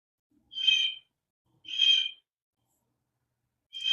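Bird calls at a home bird rescue: three clear, rasping squawks spaced about a second apart, moderately close, with quiet between them.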